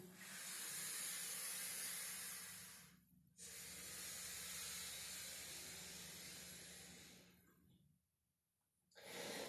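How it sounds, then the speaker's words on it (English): Long, steady breaths drawn and pushed through the nose during a gentle postnatal yoga flow, two drawn-out airy hisses separated by short pauses, close and fairly quiet with no talking. "Nose breathing."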